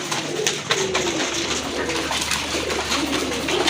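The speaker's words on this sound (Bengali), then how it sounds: "আপনারা দেখতে পাচ্ছেন এক জোড়া দামাসিন কবুতর" A pair of Damascene pigeons coo softly and repeatedly at close range, low rolling calls over a steady background hum.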